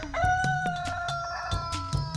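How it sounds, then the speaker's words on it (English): A rooster crows loudly and close, one long rising-and-held call, with a few sharp knocks and clucks around it. "And immediately a rooster crowed."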